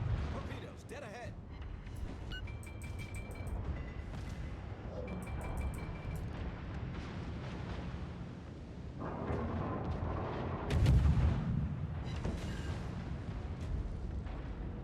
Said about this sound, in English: I just got fucked by torpedoes